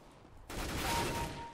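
Gunfire in Counter-Strike played in VR comes in as a sudden loud burst of rapid shots after a brief near-silence, then rings on and slowly fades.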